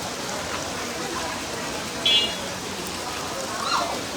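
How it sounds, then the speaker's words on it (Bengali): Steady rain falls at a cattle market, giving a continuous broadband hiss of drops on surfaces with a couple of brief faint tones partway through. "দেখছেন কি পরিমাণ বৃষ্টি হইতেছে"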